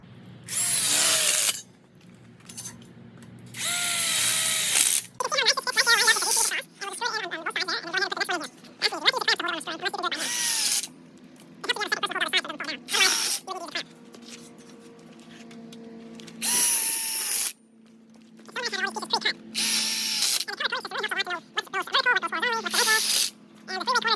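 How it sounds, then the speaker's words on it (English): Power drill driving screws into an outdoor kitchen telescoping smoker module frame, heard in several loud bursts of whirring that alternate with stretches of someone talking. "We'll just put a screw here and a screw there, and then we'll just install it into the frame with screws facing down."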